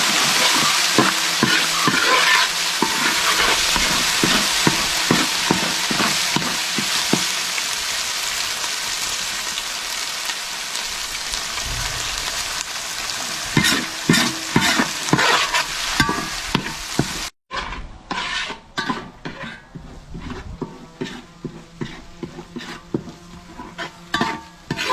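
Ginger garlic paste frying in a pan for a Kerala-style snakehead fish curry, a loud steady sizzle with frequent spoon scrapes and clinks against the pan, briefly cut off near the end before the stirring resumes.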